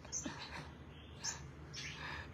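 A pet songbird kept and tended in the morning gives three short, bright chirping bursts, spaced about a second apart, fairly faint against a quiet room background.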